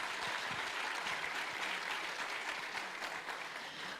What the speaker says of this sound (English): can we give way to one more big round of applause?